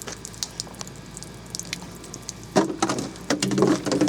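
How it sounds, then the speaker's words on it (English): Water spraying and splashing out of water-filled jugs shot with a .22 LR defensive load, starting as scattered drips and spatters, then bursting into louder, sustained sprays toward the end, with no talking. "we got water spraying"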